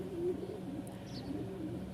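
A pair of pigeons coo softly in low, rolling phrases, repeating a few times over a steady background hum with no one speaking.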